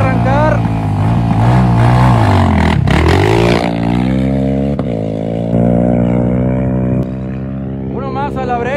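At the start of the 2024 Cabo 250 off-road race, a race motorbike engine revs hard up and down in bursts, loud and close, with an announcer's voice running over it.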